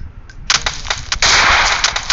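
Loud, close bursts of M4 rifle fire in a shooting video game: several sharp single cracks, then a sustained rapid automatic burst with a few more shots over it.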